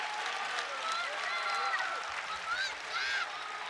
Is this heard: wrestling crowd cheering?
yes